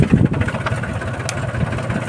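A tractor engine idles and runs with a steady low, throbbing chug close by while the tractor reverses.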